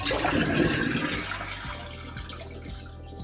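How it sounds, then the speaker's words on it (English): A toilet flushing with its flapper held open, a loud rushing swirl of water that settles into steady draining and trickling, close by. "once I hold the latch down, this flap is going to stay open and it's going to keep draining the water"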